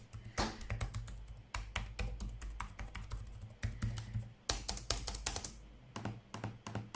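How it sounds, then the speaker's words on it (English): Typing on the soft, quiet keys of an Alienware X17 R2 gaming laptop, dull muted taps in quick bursts separated by short gaps, heard up close with nobody speaking. "the typing feel is very dull. It's not clicky or loud at all."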